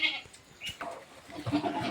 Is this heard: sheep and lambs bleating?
yes